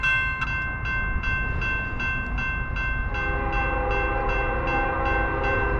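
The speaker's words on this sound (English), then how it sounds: "Fifth train of the day." An eastbound Norfolk Southern freight train led by three old locomotives rumbles past close by at about 50 mph in Piscataway, New Jersey, a steady heavy roar with rhythmic clacks from the wheels over rail joints.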